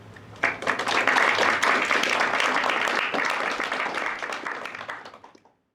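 An audience at an evening talk on contemporary art in Japan applauds to welcome the speakers, steady clapping that swells quickly, holds for several seconds, then thins out and stops.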